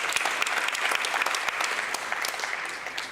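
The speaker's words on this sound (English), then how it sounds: "Can we also give him a big round of applause?" Applause from a gathered audience during a ministerial visit for the District Development Model, a close, full burst of many hands clapping that holds steady for a few seconds and eases slightly toward the end.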